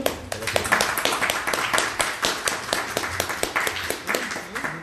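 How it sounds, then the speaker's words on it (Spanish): A church congregation applauds after a sermon, a sparse group clapping with distinct individual hand strikes in an uneven patter, fairly close and moderately loud, with some voices mixed in. "Démosle un aplauso al Señor."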